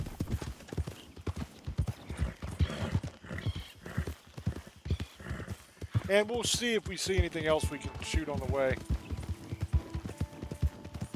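Horse hooves clip-clop in the video game Red Dead Online, a steady trotting rhythm of hoofbeats with a whinny partway through, under someone talking over the gameplay.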